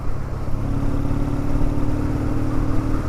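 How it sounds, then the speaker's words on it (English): A BSA 650 A10 motorcycle exhaust burbles steadily at about 35 mph past walls, a low continuous rumble with a throbbing drone and wind noise, no voices. "Exhaust is burbling away nicely, especially against these walls."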